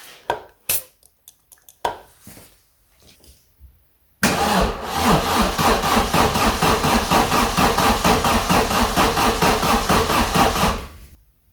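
A 1994 Vauxhall Astra GSi cranks on the starter during a compression test with oil added to the cylinder. A few short taps and clicks come first, then about seven seconds of loud, rhythmic, pulsing cranking before it stops.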